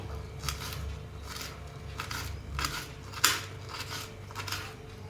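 A knife finely slices cabbage on a board, making soft, repeated crisp cutting strokes at an uneven rhythm over low background hum. No one talks.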